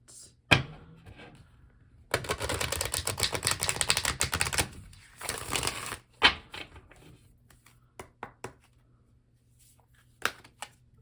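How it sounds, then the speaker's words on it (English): Tarot cards are shuffled with a quick riffling burst, a shorter second shuffle, then scattered soft taps and shuffles of cards being handled, quiet and close. "One more shuffle here and then we'll cut."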